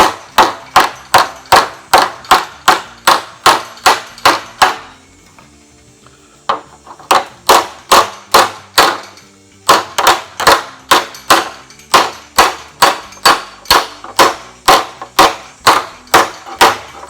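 Hammer and dolly blows straightening the metal grille of a 1947 Ford street rod, a steady rapid series of sharp ringing metallic strikes close by, pausing briefly before resuming at the same even rhythm.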